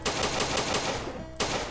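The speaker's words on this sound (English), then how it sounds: "you're firing our shots and it makes things feel like you're actually hitting something" Rapid gunfire from a retro first-person shooter built in Unity, a quick run of evenly spaced sharp shots followed by a short pause and one more shot, loud and close.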